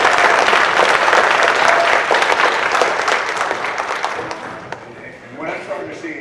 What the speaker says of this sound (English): what I want to do is give a round of applause to that Path to Leadership presentation